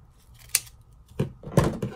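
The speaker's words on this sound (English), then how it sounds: "I'm just gonna fold it over on itself and then cut it lengthwise" Scissors snip through a folded paper party streamer lengthwise, giving a few quiet, close crisp cuts spread unevenly over two seconds with no talk.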